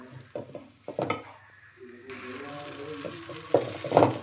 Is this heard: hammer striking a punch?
no